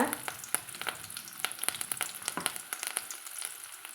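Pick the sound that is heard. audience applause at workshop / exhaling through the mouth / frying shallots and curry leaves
frying shallots and curry leaves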